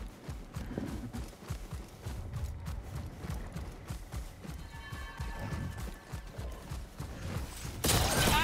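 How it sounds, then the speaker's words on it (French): Small horse hooves clip-clopping in the Star Wars Jedi: Survivor video game, a steady run of quick, close hoof beats on hard ground with mechanical game noise beneath and a louder burst of noise at the very end. "Un petit cheval."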